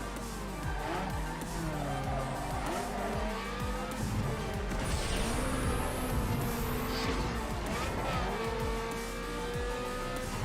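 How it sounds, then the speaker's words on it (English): Engine of a stage 3 Toyota Supra in Need for Speed Underground 2 climbing and dropping through shifts and downshifts, tyres squealing and skidding, loud and sustained throughout. "The stage 3 Supra."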